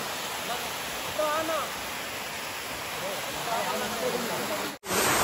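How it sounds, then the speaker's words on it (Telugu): Tatiguda waterfall at Ananthagiri roars as a steady close rush of falling water. A few brief tonal calls sound over it, and a sharp handling knock briefly cuts the sound near the end. "తాటకొండ వాటర్ ఫాల్స్"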